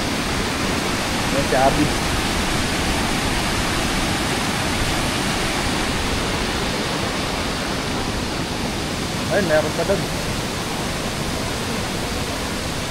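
Steady broadband rush of Pinamun-an Falls waterfall in Nagcarlan, Laguna, heard from above the falls, continuous and fairly loud throughout, with a person briefly talking over it twice.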